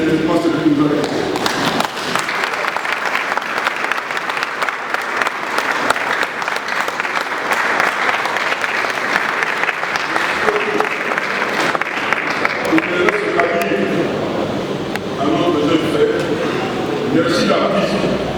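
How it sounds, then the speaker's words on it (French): A standing crowd at a memorial tribute for a Congolese rumba musician claps frenetically in a loud, dense, continuous roar of applause that runs unbroken for the whole stretch. "Je voudrais demander à tout le monde de se mettre debout et encore une fois applaudir frénétiquement ce qui nous a fait."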